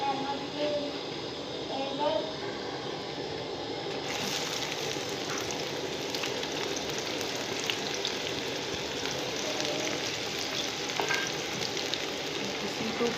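Onions frying in hot oil on a dhaba-style village cook setup, a continuous close sizzle and crackle that grows brighter partway through, with light stirring scrapes and no speech.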